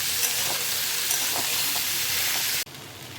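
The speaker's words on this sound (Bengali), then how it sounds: "এখন আমি নুনটাকে সবজির মধ্যে ভালো মতো মিশিয়ে নেব" Potatoes and aubergines are stirred with salt in a pan for Bengali mourola fish chorchori. A steady close sizzle of frying runs throughout with soft scraping, then cuts off abruptly near the end.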